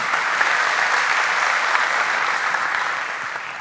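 An audience in a large conference auditorium applauds a speaker, dense steady clapping from many hands that holds for several seconds before easing slightly.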